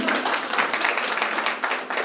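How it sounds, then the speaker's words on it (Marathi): An audience at a women's haldi-kumkum gathering claps and applauds, a dense, continuous burst of many hands close by, lasting a couple of seconds. "मॅडमसाठी टाळ्या झाल्या पाहिजे"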